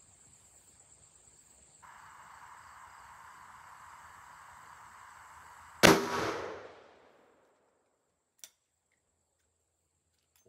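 A single sharp gunshot from a Rossi RP63 .357 Magnum revolver with a 3-inch barrel, firing a 110-grain load into gel, cracks out over a faint steady hum and fades quickly, followed by a couple of small clicks.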